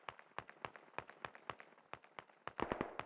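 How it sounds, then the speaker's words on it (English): Rapid gunfire in the video game Squad, a string of sharp cracks in quick irregular rhythm, fairly faint and distant, rising briefly toward the end. "Hearing shots here to the south."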